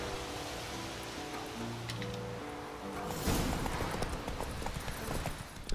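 Rhythmic hoofbeats of a horse galloping in a race in The Witcher 3 video game, steady clip-clop over a dense layer of game music and ambient noise, intensifying partway through.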